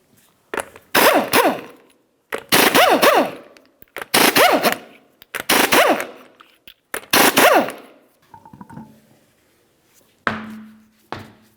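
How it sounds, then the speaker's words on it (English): Impact wrench spinning off the 19mm lug nuts of a 2006-2012 Ford Fusion wheel, five loud rattling bursts of hammering about a second each, followed by a quieter whir and a short hum. "Continue on to removing all 5 of your 19mm lug nuts and then the wheel."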